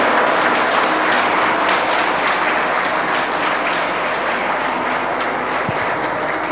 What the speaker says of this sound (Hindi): प्लीज़ जोरदार तालियां, ये बड़ी एनर्जी होती है इसमें।